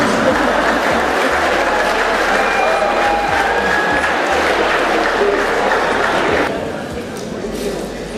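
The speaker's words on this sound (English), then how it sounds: "I think you all deserve a round of applause" A large audience applauds and cheers at the Women4Africa Awards UK 2012 in Great Hall Kensington. The clapping is loud and sustained, then eases slightly toward the end.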